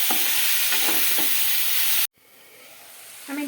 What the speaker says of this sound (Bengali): এবারে আমি মিডিয়াম ফ্লেমে রেখে ব্রোকলি আলু সব কিছু পেঁয়াজের সঙ্গে ভেজে নেব এভাবে নাড়তে থাকবো